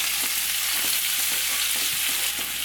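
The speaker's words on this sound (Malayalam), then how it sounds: "ഇതിലേക്ക് നമുക്ക് സവോള മുറിച്ചതിട്ട് കൊടുക്കാം കേട്ടോ." Three large sliced onions fry in coconut oil in a kadai for a dry prawn roast, giving a loud, continuous sizzle close by, broken by light rhythmic scrapes of stirring, with no talking.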